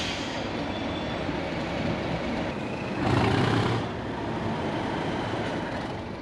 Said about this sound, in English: Class 37, did you hear that thrash? Absolutely marvellous.